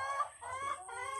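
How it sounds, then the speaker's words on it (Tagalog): Chickens at a picnic spot in Candelaria, Quezon, clucking in short repeated bursts, soft and somewhat distant, with no voices in between. "Ang mga manok."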